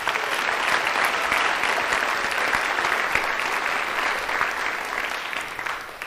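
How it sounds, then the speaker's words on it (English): Sustained, even applause from a crowd honoring a graduating class of 2025 for their community service, steady and full, tapering slightly at the end. "I think we should give them all a round of applause."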